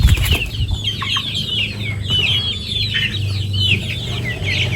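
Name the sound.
Elba breed free-range native chickens clucking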